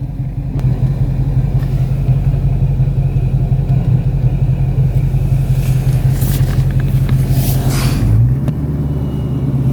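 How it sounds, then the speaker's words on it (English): A Procharged Dodge Scat Pack with a supercharged 392 engine rumbles loud and close while backing out of a tight parking spot, a deep steady drone that dips slightly near the end. "it is super difficult to back this thing out without scraping the hell out of the front bumper"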